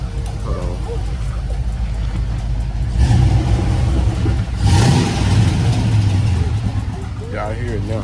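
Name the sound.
5.3 LS swap engine revving with loud popping noise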